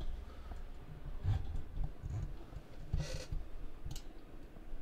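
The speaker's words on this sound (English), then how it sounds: "I can give you guys typing sounds." Mechanical keyboard keys clack in uneven bursts, some strokes sharper and louder than others, close and with no talking.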